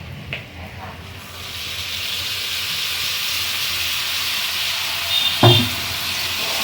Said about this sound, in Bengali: এই পেস্টটা এর মধ্যে মিক্সড করে রেখেছিলাম ঢেলে দিচ্ছি